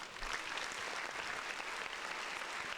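Applause during a podcast episode: a steady, dense patter of clapping from a small group, sustained evenly for a few seconds and heard alone without talk.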